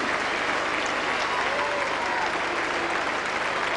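Steady applause from a football crowd rings out at a tribute match with ex-Spurs players, a continuous patter of clapping lasting a few seconds.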